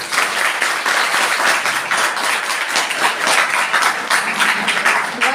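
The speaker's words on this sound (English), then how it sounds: "Why you are clapping only for IT, sir?" Students at a school 9th-class orientation programme clap together, a dense, steady patter of many hands that is fairly loud and holds throughout without a break.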